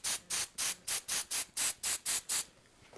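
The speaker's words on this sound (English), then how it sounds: "Spray it again." Unscented Aqua Net hairspray sprayed onto model trees for Z, N and HO scale layouts, ten short rhythmic hissing bursts in quick even succession, close and crisp, then quiet.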